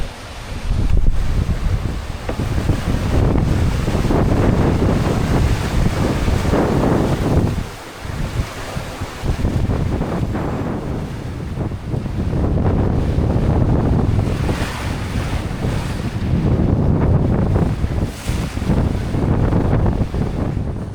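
Strong wind roars across the microphone while heavy ocean waves of about 14 to 16 feet surge and crash in repeated swells during an Atlantic crossing, loud and close, with no voices.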